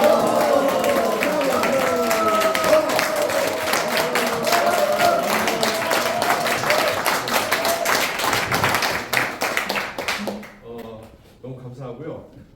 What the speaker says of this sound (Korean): 몇몇 분은 좀 어색한 박수를 치시는데